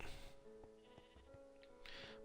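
Sheep in the Minecraft video game bleat on a farm, two or three short wavering bleats layered over steady background game music, close and clear.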